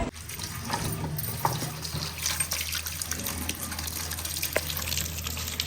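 Water runs steadily from a tap while something is washed in a village kitchen, a continuous close gushing and splashing with no talk.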